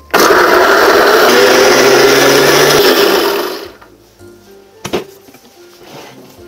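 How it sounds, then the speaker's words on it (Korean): A loud blender whirs steadily for several seconds, grinding potatoes and onions, then cuts off, leaving a quiet room with a faint clunk afterward. "이제 믹서기로 갈겠습니다."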